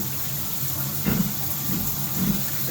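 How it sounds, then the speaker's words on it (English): Water pours from a newly installed waterfall shower head in a home bathroom, a steady hissing rush with a couple of brief louder splashes. "this here is going to be the waterfall shower head"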